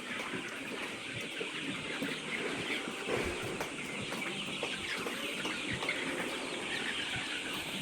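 Chickens cluck and murmur continuously inside a poultry building housing about 10,000 birds, a dense, moderately quiet chorus of overlapping clucks and occasional wing flutters.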